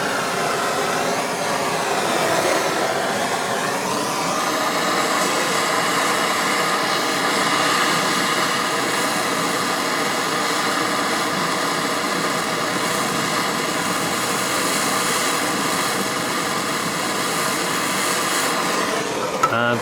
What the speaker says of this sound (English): And now I heat really this bolt, that bolt area.